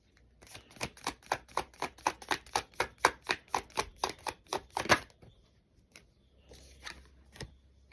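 Tarot cards shuffled by hand in a quick run of about twenty sharp, regular riffles and snaps, close and crisp, then a few slower scattered flicks.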